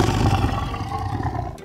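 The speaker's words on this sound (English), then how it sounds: "The leopard makes a snarling sound." A leopard snarls in a loud, rough, sustained growl that runs unbroken for under two seconds, close and alone with no talk.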